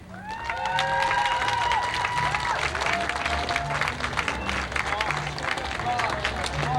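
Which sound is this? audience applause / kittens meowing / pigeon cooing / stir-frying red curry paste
audience applause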